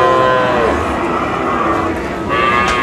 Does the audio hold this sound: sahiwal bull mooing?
yes